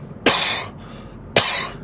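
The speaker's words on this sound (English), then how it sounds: "coughing fit" Two sharp, harsh coughs about a second apart, loud and close, with quiet pauses around them.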